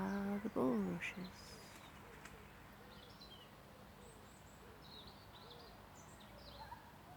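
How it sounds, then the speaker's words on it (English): Birds near bulrushes by a boardwalk, giving soft, faint calls and short chirps scattered over a quiet outdoor background, with a brief louder cooing call near the start. "And I can hear the birds."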